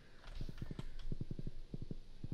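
Hooves clatter in quick repeated triplet bursts as a horse gallops in the farming game Stardew Valley, a steady rhythmic patter close by with no talk over it.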